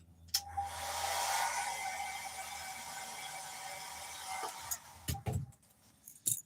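A hair dryer runs at close range with a steady airy whir and a faint high tone for about four seconds, then cuts off, followed by a few handling clicks and knocks.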